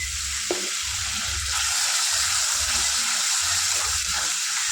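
A spice paste of salt, turmeric and ground coriander frying in a pan, a loud continuous close sizzle with a faint scrape of stirring, no voices.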